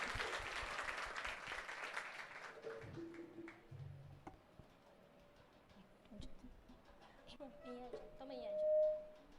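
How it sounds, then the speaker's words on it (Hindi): Applause from a congregation at a live church worship service, a dense burst of clapping in the first few seconds that fades into quieter room sounds and faint voices. "आइए जोरदार ताली इमू भाई के लिए बजाएंगे।"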